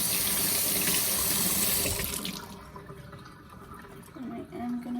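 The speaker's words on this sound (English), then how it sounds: "I'm just gonna wash them off." Tap water runs steadily into a sink as tweezers are rinsed off, a loud broadband rush that eases and thins partway through, leaving a quieter trickle with faint handling noises near the end.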